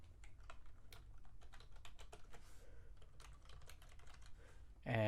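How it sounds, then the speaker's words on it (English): A password typed on a computer keyboard: a quick, irregular run of light key clicks over several seconds, close and fairly soft, ending with a louder thump. "and I'm going to put my password."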